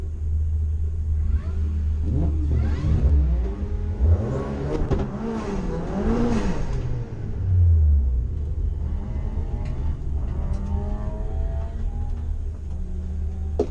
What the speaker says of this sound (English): I've got to do some wheel spins to get the tyres heated up.